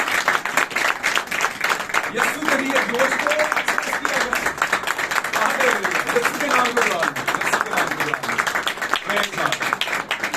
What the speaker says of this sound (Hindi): आपने खुदावंद के लिए ताली बजाई है